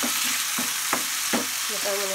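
Chopped tomatoes go into a pan of frying pork, and a steady, loud sizzle fills the whole stretch, with a few soft stirring knocks and no talking.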